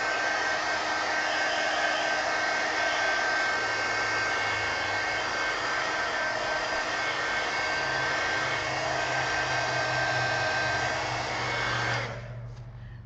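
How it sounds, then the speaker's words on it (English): A heat gun blows hot air for about twelve seconds, a steady, loud, close whooshing drone with a thin whine, then cuts off and winds down at the end. "Now let me hit that with the heat gun again."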